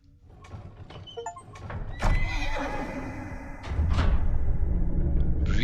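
A horse whinnies and its hooves clip-clop in the puzzle game Boxes: Lost Fragments, with several neighs and a heavy thunk midway, then a louder, busier stretch of hoofbeats and movement toward the end.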